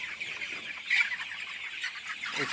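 A few soft clucks from 35-day-old poultry farm chickens sound faintly nearby, brief and scattered against quiet farmyard background.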